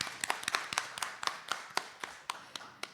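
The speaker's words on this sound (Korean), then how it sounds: "다시 한번 큰 박수로 맞이해 주십시오" Audience applause greets a panelist introduced at a citizen-participation forum on disaster and safety issues in Gyeongbuk, sounding as a steady patter of many hands with sharper individual claps standing out, fairly quiet and distant, with no talk.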